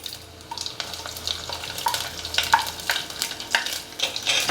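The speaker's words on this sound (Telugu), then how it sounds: "ఆవాలు టప్టపా అంటేనే మనకి రుచిగా ఉంటాయి." Mustard seeds crackle and pop in hot oil for a tempering, with sharp irregular pops growing denser and louder over a steady sizzle, close up.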